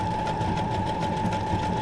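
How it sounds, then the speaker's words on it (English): A sewing machine stitching paper ephemera for a junk journal, a steady, loud, close mechanical whir with a rapid even needle rhythm running throughout, no voices. "I just want to use the stitch on the sewing machine, the stitches on the sewing machine."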